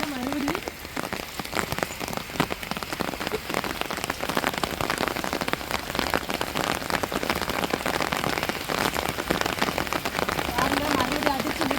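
Heavy rain pouring down in a village, a dense, steady hiss of drops pattering on surfaces close by throughout, with a voice talking over it.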